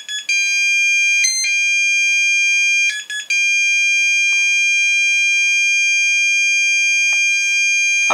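A location buzzer on an XGlow Pro glow ignitor for an RC model emits a loud, steady high-pitched electronic tone, briefly broken by a few short gaps and chirps.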